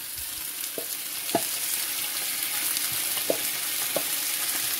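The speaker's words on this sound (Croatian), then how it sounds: "I 1 minut pržim." Oil sizzles steadily in a pan of frying potatoes and chard, with a few soft scraping knocks as the food is stirred now and then.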